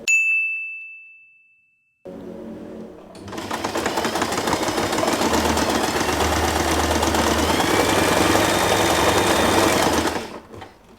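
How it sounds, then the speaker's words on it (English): Sewing machine stitching the ends of a satin scrunchie's elastic band together back and forth, a loud steady mechanical whir running close for about seven seconds after a brief chime and a quiet pause. "I'm going to sew the elastic band together."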